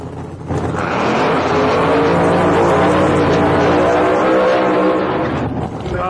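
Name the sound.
drag racing door slammer car driven by Fred Hahn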